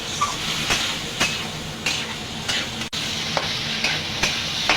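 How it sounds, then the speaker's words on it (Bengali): Washed rice is stirred in a hot pan for bhuna khichuri, a continuous sizzle broken by regular scraping strokes about once a second, no talking. "চালটা দিয়ে একটু নাড়াচাড়া করে নেব।"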